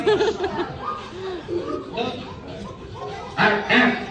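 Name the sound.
child imitating a dog barking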